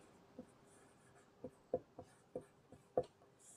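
Writing during a maths lesson, a series of soft separate taps and strokes at an uneven pace, fairly quiet against a faint background hum.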